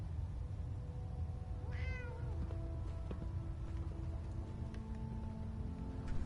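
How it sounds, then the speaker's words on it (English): A cat meows in Fallout 4, one clear rising-and-falling call near the start over steady low game ambience and background music tones, with no talk. "it's a little kitty"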